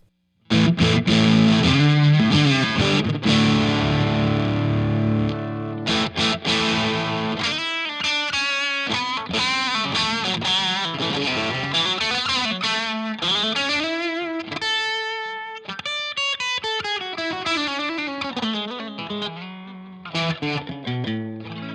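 A distorted electric guitar through an overdrive pedal plays chords, then a run of sustained lead notes with a chorus-like shimmer, loud and continuous with no talk.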